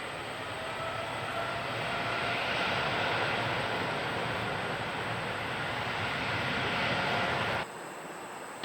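A jet aircraft taking off from runway 34 right at Incheon Airport, a steady, loud, broad engine roar lasting several seconds before dropping suddenly near the end, heard from a distance with no voices.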